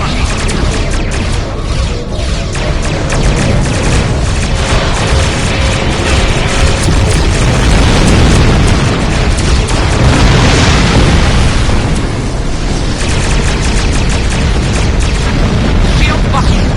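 Starships in Star Trek Online firing weapons at a base, a loud continuous barrage of booms and blasts rumbling without pause, with faint voices mixed in.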